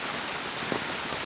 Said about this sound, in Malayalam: അത്യാവശ്യം നല്ല രീതിയിൽ മഴയാണ്.